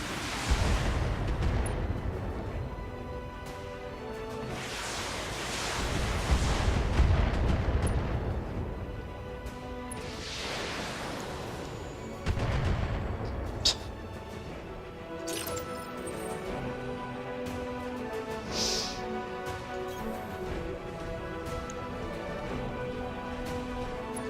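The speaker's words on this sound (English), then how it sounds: "All weapons committed." Mech weapons firing in BattleTech: a series of heavy booming volleys and blasts spread across the clip, with deep rumbling impacts, some sharper cracks and quieter stretches between salvos.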